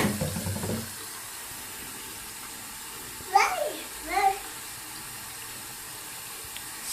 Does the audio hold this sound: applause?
no